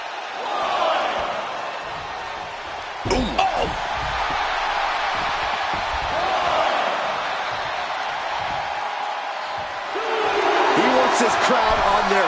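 A wrestling arena crowd cheers steadily, with a continuous roar that swells near the end, a sharp slam-like thud partway through, and a commentator talking over it.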